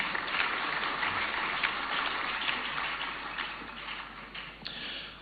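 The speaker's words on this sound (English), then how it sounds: "Shall we do a big round of applause, ladies and gentlemen?" Audience applause at the launch of the Ghana World Cup fundraising campaign, a broad, even wash of many people clapping heard at a distance, steady and somewhat muffled throughout with no talk over it.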